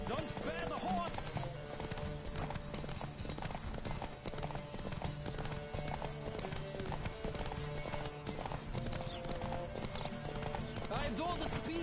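Horse hooves galloping in The Witcher 3: Wild Hunt, a steady rapid clip-clop running continuously under game music and bursts of speech throughout.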